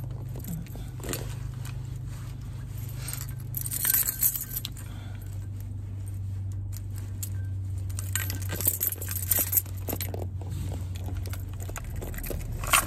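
Keys jangle and clink in bursts over a steady low hum of a nearby car, the metallic rattles close and fairly loud, coming in clusters of quick jingles.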